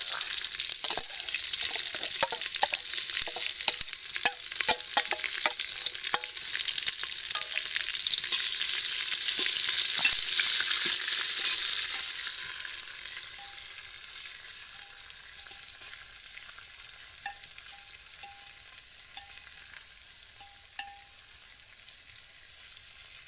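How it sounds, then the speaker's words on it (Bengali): Onions frying in a pot for handi chicken, a steady bright sizzle that swells loudest midway and then settles to a softer crackle, with scattered stirring scrapes and light ticks throughout. "পেঁয়াজটা একটু ফ্রাই করে নিলাম"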